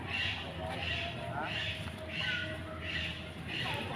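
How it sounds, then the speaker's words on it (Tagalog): Repeated high-pitched eagle screeching calls, about six in a rhythmic series, echoing from a distance in a park over steady outdoor background noise. "Yun, huni ng agila, hindi lang natin makita kung saan"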